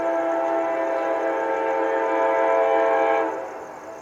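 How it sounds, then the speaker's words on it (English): A northbound CSX freight train pulls into the Bushnell siding, giving a loud, steady horn blast of several seconds that cuts off and leaves a fainter rumble at moderate distance. "here comes the mystery northbound train going into the siding at Bushnell"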